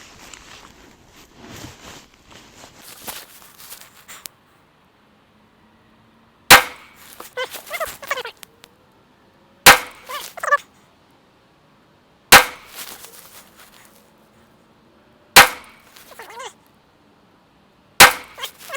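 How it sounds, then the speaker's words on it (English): Rifle shots from a 6.5 Grendel with an 18-inch Grendel Hunter upper ring out one at a time while zeroing at a range: five or six sharp, loud cracks spaced a few seconds apart, each with a brief echoing tail, after some quiet handling noise. "These first few shots were as I was zeroing in the rifle."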